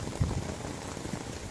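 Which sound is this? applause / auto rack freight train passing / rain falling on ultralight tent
rain falling on ultralight tent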